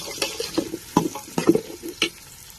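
Onions are sautéed in a pan after mustard seeds, for a Tamil country-chicken dish, with a few sharp scraping stirs and short sizzling bursts spaced irregularly over a quiet background.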